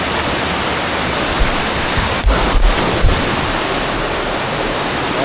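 Water rushes steadily near a large cave in a Chikmagalur forest, a loud, continuous broadband roar with a few soft thumps in the middle and no voices.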